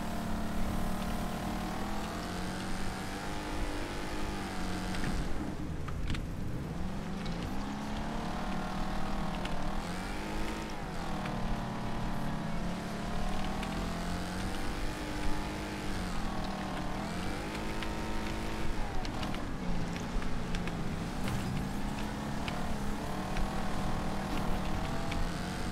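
A damaged car engine in the racing game Wreckfest drones steadily and fairly faintly, its pitch rising and falling repeatedly with throttle and gear changes over continuous road and crash noise.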